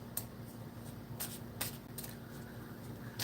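A tarot card deck is shuffled close by, soft papery riffles and flicks in quick bursts over a faint steady hum, quiet and without talk.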